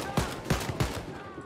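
Bursts of gunfire in the shooter game Wolfenstein: Youngblood, three sharp shots spaced about a third of a second apart, close and punchy, followed by fainter scattered pops and a low hum.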